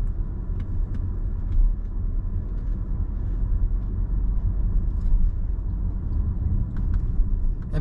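A car climbs the Pikes Peak road in low gear, its engine a steady, dense low rumble from inside the cabin with no talk, holding an even drone throughout.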